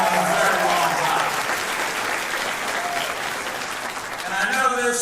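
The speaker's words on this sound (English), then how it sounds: "How about a round of applause for Tony Perkins" Audience applause for Tony Perkins at a religious summit, a dense crowd clapping that dips slightly before swelling again at the end.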